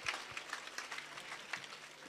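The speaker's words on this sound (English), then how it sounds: "Clap hands for Jesus Christ" Congregation clapping hands during a church service, a dense, quiet patter of many hands with scattered sharper claps, heard alone without speech.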